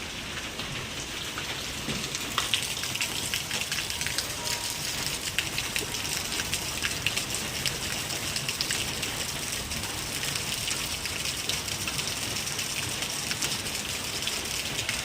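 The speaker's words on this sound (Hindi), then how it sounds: "देखो बारिश आ गई।" Steady rain falls on surfaces all around, a dense continuous patter with occasional louder drops, no voices.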